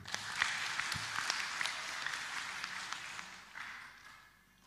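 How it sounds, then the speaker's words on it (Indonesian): Applause from an audience at a political gathering with a PDI Perjuangan speaker, a soft, fairly distant patter of clapping that holds steady, then fades out over the last second. "Tepuk tangan dong."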